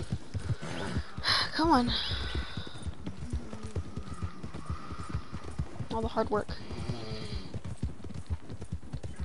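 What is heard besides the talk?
horse galloping in a PS4 video game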